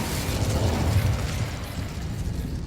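A fire spell is cast in Hogwarts Legacy, producing a steady, rushing roar of flames with a low rumbling body that sustains evenly for a few seconds.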